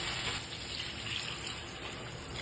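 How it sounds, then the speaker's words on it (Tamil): Water is poured steadily into a pan of prawn curry (prawn thokku), making a continuous close rushing, splashing pour that fills the whole moment with no break. "கொஞ்சமாக தண்ணி சேர்த்துக்கலாம்."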